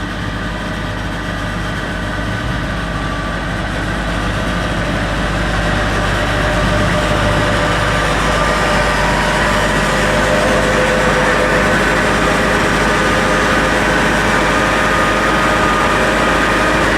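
Farmall 856 tractor engine running steadily, a continuous low rumbling drone that stays loud and close for the whole stretch, with no talking.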